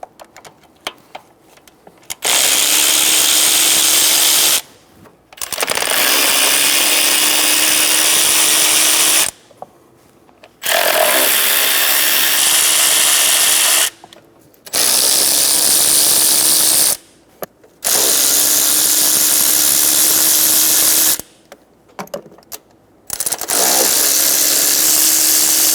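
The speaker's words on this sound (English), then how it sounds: "Using a 10mm socket, we're going to go around and remove all of the bolts for the intake." A power ratchet spins a 10mm socket to back out intake manifold bolts on a 2014-2018 Chevrolet Silverado 1500 with a 5.3L V8, sounding in about six loud, close whirring bursts of a few seconds each, separated by short pauses.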